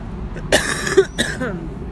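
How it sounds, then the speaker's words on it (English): Two or three sharp, raspy coughs burst out in quick succession over a quiet background, close to the microphone. "Of course, I'm gonna have a coughing fit"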